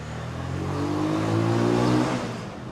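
A big motorcycle engine revs up, a rising, swelling engine roar that holds for about a second at its peak and then falls away, heard alone.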